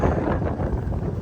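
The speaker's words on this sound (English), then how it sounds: "it's windy today" Strong wind buffets the microphone beside a cattle corral, a steady, loud low roar with gusty surges throughout and no voices.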